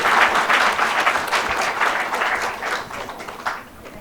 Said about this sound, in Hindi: उन सबका एक बार जोरदार तालियों से शुक्रिया अदा करें।